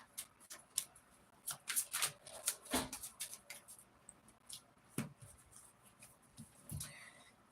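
Tarot cards shuffled by hand, producing soft, faint riffling and slapping bursts that come in uneven clusters, close by and without talk.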